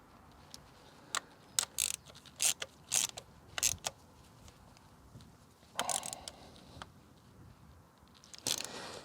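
Wrench work on the fuel system of a Ford Puma, tightening bolts down against shouldered mounts and rubber washers; a string of short metallic clicks and ratcheting creaks comes in separate bursts, close and fairly quiet, with no talk.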